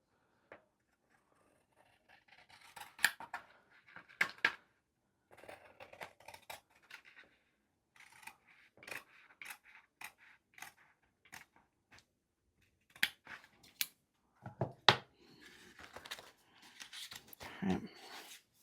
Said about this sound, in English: now let me use my scissors on the straight edges here